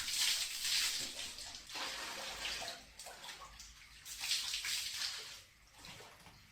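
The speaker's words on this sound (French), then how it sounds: "sa femme qui est en train de prendre une douche là, non?" Shower water runs and splashes in a steady hiss that swells and fades in uneven surges, faint and somewhat distant, with no voices over it.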